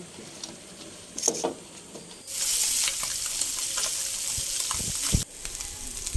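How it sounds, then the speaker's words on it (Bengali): Koi fish sizzling and crackling in hot oil in a wok, a steady loud fry with occasional pops and stirring clatter, no talking. "কড়াইতে তেল দিয়ে মাছ ভেজে নিলাম"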